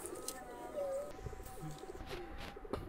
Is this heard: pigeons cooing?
yes